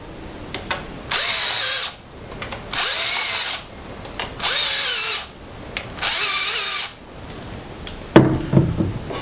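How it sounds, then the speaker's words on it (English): A power drill backs out four screws from the motor controller cover of a Zip Series buggy, four loud whirring bursts of about a second each separated by short pauses, ending with a clatter as the parts are handled. "So we're going to now remove these 4 screws from their position."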